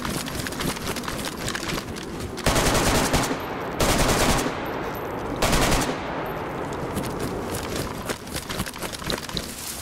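Gunfire in the survival video game DayZ: dense automatic bursts rattle on and off across the whole stretch, with three louder, sharper volleys standing out near the middle, loud and close.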